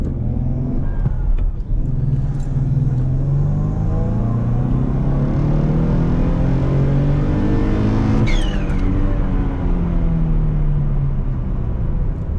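Twin-turbo Ford Mustang engine revs up through a pull, its pitch climbing steadily and loudly, then briefly drops and starts climbing again near the end, with no talking.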